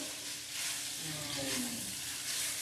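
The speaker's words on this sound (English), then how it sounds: "we just start to blend all of that basil and the garlic to the pasta" Basil and garlic are tossed into spaghetti in a hot pan, a soft steady sizzle and hiss with faint stirring movement, quiet and close, with no talk over it.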